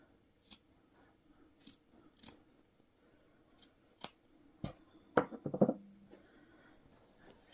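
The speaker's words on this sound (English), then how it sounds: "And then I just cut the wadding" Sewing scissors snip through quilt wadding on a fabric textile book, giving sparse, crisp single cuts at first and then a quick, close cluster of several snips, with no talking.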